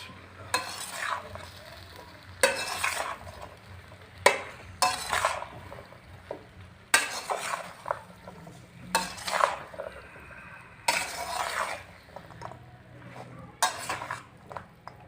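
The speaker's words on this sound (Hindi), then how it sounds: "सब्जियां शामिल करके अभी इसको अच्छे तरीके से मिक्स करना है।" Vegetables for an eggplant, potato and pea dish are stirred in a cooking pan, giving repeated bursts of scraping and clinking utensil strokes over a faint sizzle, with short pauses between rounds.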